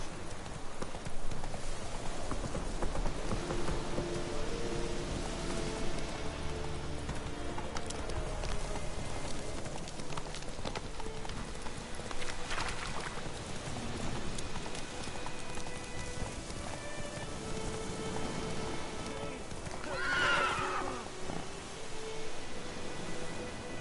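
Roach the horse gallops through rain in a video game, with quick, steady hoofbeats pounding the ground under continuous pattering rain and a few brief louder accents along the way.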